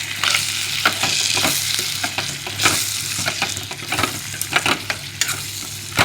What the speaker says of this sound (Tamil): பொடியாக நறுக்கி வச்ச கொத்தமல்லி புதினா போட்டு ஒரு பரட்டணுங்க.